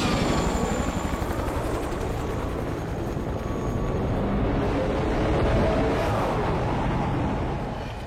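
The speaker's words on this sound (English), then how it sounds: "We need to set this chopper down" Helicopter in flight in an action film, a steady loud rotor and engine roar filling the whole stretch without a break and swelling slightly toward the end.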